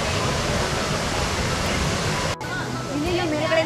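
Thotti Kallu waterfall near Bangalore: a dense, steady roar of falling water fills the first part, then a brief cut, after which the rush continues slightly softer under faint other sounds.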